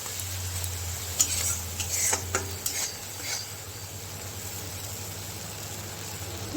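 Spice paste for a fish curry being fried and stirred in a pan: a soft, steady sizzle with a few scraping utensil strokes against the pan early on, fairly quiet and continuous, no talking.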